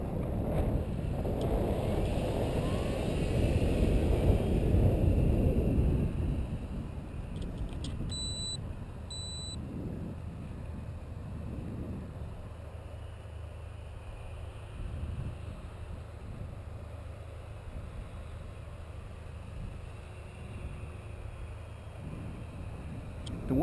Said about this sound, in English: The wind is really choppy.